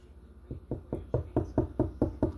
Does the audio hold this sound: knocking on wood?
yes